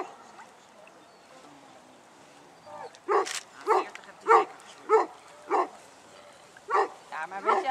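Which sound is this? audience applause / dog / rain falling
dog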